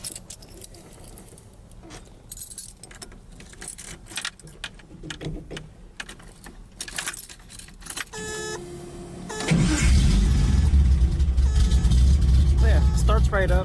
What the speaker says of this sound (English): So yeah, starts right up, idle's good.